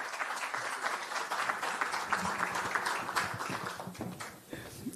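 Sustained audience applause at an award ceremony for a story and photography competition, a dense steady patter of many hands clapping throughout, loud and continuous with faint voices mixed in.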